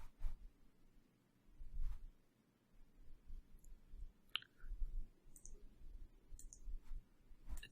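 Computer mouse clicks, a few sharp isolated ticks spaced through a quiet room with low background hum, no talk.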